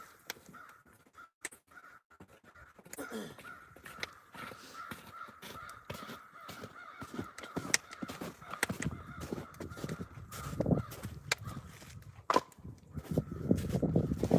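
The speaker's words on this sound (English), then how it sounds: "The crows are... Oh, they're being crowing. They're being crows." Crows caw repeatedly in winter woods at a maple sugar bush, the calls moderately distant and irregular against a background of rustling, footsteps and activity that grows busier toward the end.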